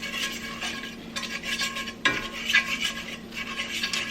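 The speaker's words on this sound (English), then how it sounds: "And I'm going to continue to whisk this around." A fork whisks flour around in a pan, giving a steady, fairly quiet scraping and swishing with a few sharper clinks against the metal.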